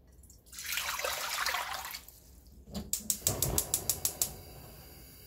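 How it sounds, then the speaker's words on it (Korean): Water poured into a cooking pot for clam soup, a broad steady splashing stream for about two seconds, followed by a run of sharp clinks and taps close by. "물 1리터 정도 물을 부으시고요."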